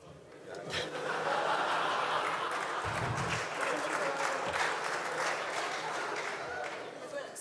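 Audience applause at a chirigota carnival festival, dense steady clapping lasting several seconds with scattered chuckles and laughter mixed in, fairly distant and moderately loud.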